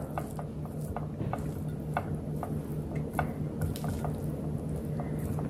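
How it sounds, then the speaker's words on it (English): No-fry fried rice is stirred in a pot, with soft, irregular scraping and ticking clicks of a spoon against the pot over a low steady background hum. "Make sure you stir from the bottom"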